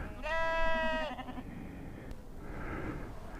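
A single sheep gives one sustained, clear bleat at close range outdoors, followed by faint background rustle and a soft, distant bleat.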